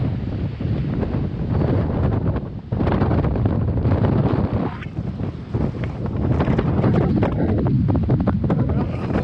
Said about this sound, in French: Il faut parler plus fort, c'est du vent.